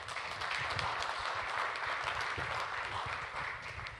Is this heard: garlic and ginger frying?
no